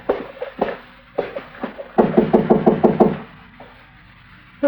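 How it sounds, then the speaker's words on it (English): Knocking on a door in a 1950s radio western drama: two short bursts of knuckle raps, then a louder run of about seven quick, even knocks, close and crisp, with no voices during the knocking. "go ahead and knock"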